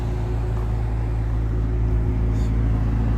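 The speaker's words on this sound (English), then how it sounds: "The McLaren 570S." McLaren 570S sports car engine, a steady low drone that holds at an even level throughout, heard from inside the cabin with no voices over it.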